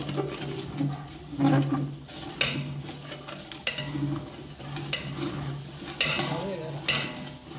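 Gravy cooking in a Kolhapur dhaba kitchen, with onion-tomato paste and cashews frying while a utensil stirs and scrapes the pan, a steady sizzle and intermittent clatter at moderate volume with no talk.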